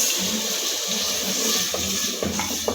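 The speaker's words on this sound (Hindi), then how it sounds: "अच्छे से मिक्स करने के बाद 1 मग पानी का शामिल करेंगे फलियों के अंदर।" A mug of water poured into a pan of cooking potatoes and green beans, a close steady splashing rush with hissing over a few seconds.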